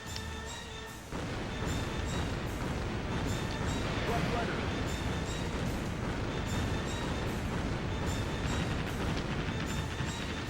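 Missiles strike a harbor in the naval combat game World of Warships, where a dense, continuous roar of booming impacts and rumbling explosions swells after a quieter opening second and keeps pounding steadily to the end, loud and close.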